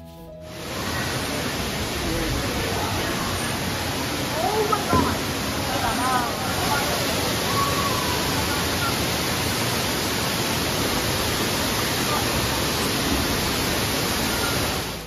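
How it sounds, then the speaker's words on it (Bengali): Waterfall splashing down inside a cave in hilly forest, a steady loud broadband rush of falling water that fills the whole span, with faint voices of visitors mixed in beneath it. "এই যে এই ঝর্ণাটা থেকেই লোকে ভিজে যাচ্ছে"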